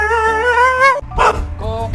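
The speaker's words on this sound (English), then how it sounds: "Hey, don't you bark at me" A dog gives a drawn-out, whining bark-like vocalization, loud and close, then breaks into short yips and barks near the end of the two seconds.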